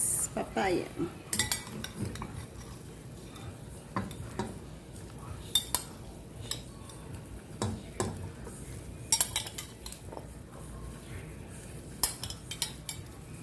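Papaya goes into a pot of native-chicken tinola: a metal spoon clinks and scrapes against the cookware in scattered, quiet taps, with a faint bubbling underneath.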